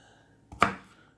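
A Kaizen Japanese chef's knife chopping through a large onion, one sharp close chop against a cutting board that rings briefly and fades in an otherwise quiet kitchen.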